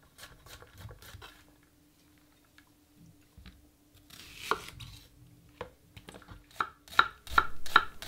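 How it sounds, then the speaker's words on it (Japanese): A knife chops onions on a cutting board across the grain for a lobster bisque, sounding as a run of crisp, close taps in bursts, with a denser flurry of quick strikes near the end. "玉ねぎも甘みを引き出すために繊維を断ち切るような形で絵回せします"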